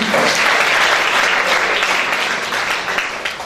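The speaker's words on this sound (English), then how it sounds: "One more time, please give a clap of praise to Jesus." A church congregation applauding in praise, dense sustained clapping from many hands filling a hall, slowly thinning toward the end.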